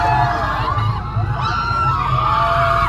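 A large, loud crowd packs in around a car at a meet-up in Deoghar, with continuous overlapping voices, shouts and chatter filling the scene from start to finish.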